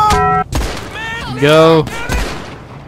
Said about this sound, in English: This Navy revolver hits hard, man.